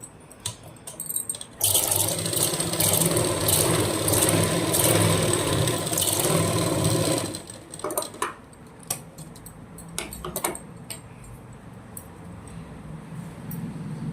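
A sewing machine stitches a blouse seam, its motor running in a steady, fairly loud whir for several seconds before stopping, with lighter handling clicks on either side.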